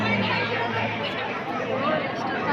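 Dense crowd chatter fills a Shiva temple, the Amrutheshwara Temple, on Maha Shivaratri night, a steady wash of many overlapping voices close around, with no single speaker standing out.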